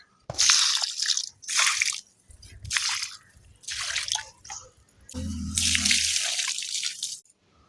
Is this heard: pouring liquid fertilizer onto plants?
yes